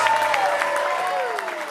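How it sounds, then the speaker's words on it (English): Wedding guests applaud the bride and groom in a steady wash of clapping and light cheering, with a sustained musical tone gliding downward underneath. "let's give the bride and her guy a big round of applause"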